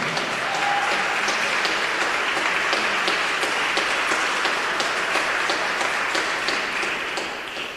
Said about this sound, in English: Keep the applause going for Jasmine